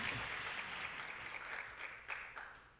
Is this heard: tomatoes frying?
no